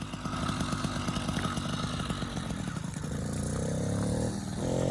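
Small 80cc two-stroke engine on a motorized bicycle buzzing and revving as the clutch is let out, a loud, rattly, steady drone that shifts pitch near the end.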